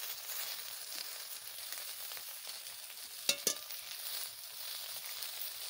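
Hilsa fish for paturi fries in a pan after being turned, a faint, steady sizzling hiss. Two quick knocks land near the middle.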